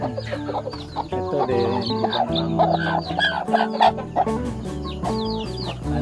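Native chickens clucking on a farm raising black soldier fly larvae as feed, a busy overlapping chorus of clucks and calls at close range, with a brief spoken word among them.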